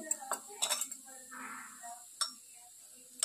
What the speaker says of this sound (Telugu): ఇప్పుడు ఈ పప్పుని మనం మెదుపుకోవాలి మెత్తగా